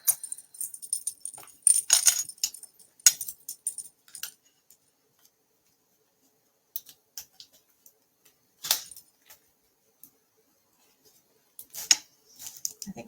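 Scissors snip through the packaging of a paper craft kit in short, crisp bursts separated by quiet pauses, close and fairly faint.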